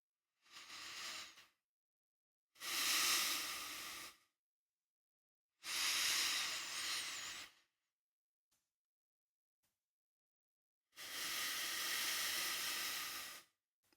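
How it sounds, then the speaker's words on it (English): Slow, deliberate inhalations through the nose during a singing breath exercise: four separate soft, hissing breaths up close, each lasting one to two seconds, with silent pauses between them. "I'm going to breathe through my nose."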